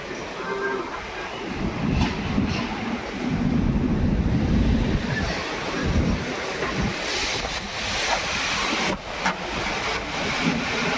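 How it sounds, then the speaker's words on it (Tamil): A sandstorm in Rajasthan: strong wind roars continuously with gusty rumbling and buffeting against the microphone, a broad rushing noise with no voices. "மக்களே பாருங்க, ராஜஸ்தான்ல இன்னைக்கு மணல் புயல் அடிக்குது"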